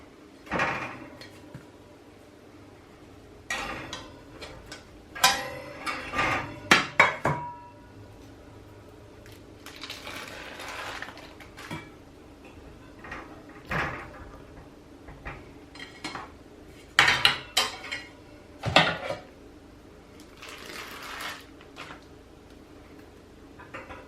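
Freshly baked cakes are turned out of their tins in a kitchen, with scattered metallic clanks, taps and knocks of the tins and utensils spread across the quiet room, close by and without talk.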